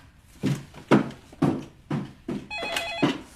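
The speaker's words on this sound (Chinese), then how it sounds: "接电话去吧。" A telephone rings in short, repeated bursts about half a second apart, with a higher electronic tone joining near the end. No voices.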